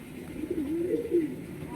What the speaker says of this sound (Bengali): এই একটা বিহারি পায়রা দেখো তোমরা